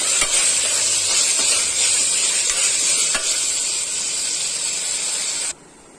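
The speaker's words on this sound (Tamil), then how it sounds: "மட்டன் கீமா போட்டுக்கலாம். நல்லா மிக்ஸ் பண்ணிக்கோங்க." Mutton keema being stirred into hot masala in a pressure cooker pan, a loud steady sizzle and hiss with scraping stir strokes, alone, cutting off abruptly near the end.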